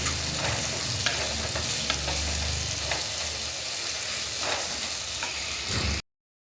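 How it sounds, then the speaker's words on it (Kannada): Tomatoes sizzle and fry in a pan for a rural-style mole sukka, with a steady, close hiss and occasional stirring scrapes throughout. "ಟೊಮೆಟೊನು ಚೆನ್ನಾಗಿ ಫ್ರೈ ಆಗಲಿ"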